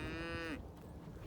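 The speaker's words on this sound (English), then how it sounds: "we do have a handful of registered Black Angus cows as well, so they're all mixed in here together" Registered Black Angus cattle on a farm, one low, drawn-out moo that is close and fairly loud, then ends abruptly into quiet outdoor background.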